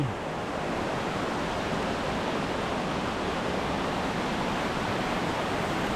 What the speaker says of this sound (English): This seasonal waterfall that I've honestly never seen running before has to be at least 100 feet, if not 120.